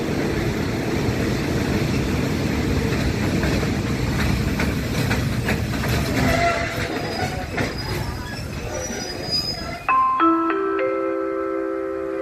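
A passenger train pulls into Nakhon Pathom station in Thailand with a loud, steady rumble of wheels and carriages, rising squeals near the end, then a station chime plays as it settles.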